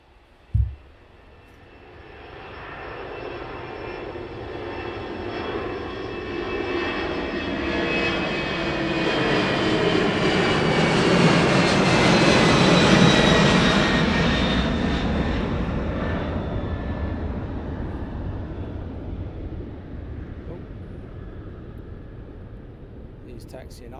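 Aircraft taxiing at East Midlands Airport at night, a broad engine roar and whine rising as it nears, peaking midway and fading off again, heard from outdoors at moderate distance with a brief thump at the start.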